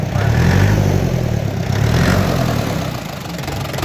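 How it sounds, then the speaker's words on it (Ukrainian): Diesel engine of a DT-5404 tractor running loud and close, a deep steady rumble that eases slightly toward the end. "так працює трактор"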